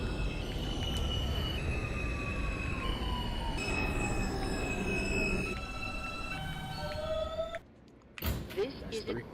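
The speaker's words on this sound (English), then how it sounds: "This is a Queens-bound R train." An R160B subway train runs in the OpenBVE train simulator on the Queens Boulevard local R line, giving a steady, loud rumble with high tonal whines rising and shifting. The noise cuts out briefly near the end, then returns.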